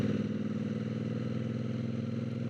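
A 2026 Triumph Bonneville Bobber twin engine running steadily while riding in third gear, a low, even, pulsing throb with a faint clatter, close and constant throughout.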